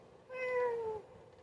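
A house cat being let out of a room gives a single clear meow, rising then gliding down, close by against a quiet background with no talking.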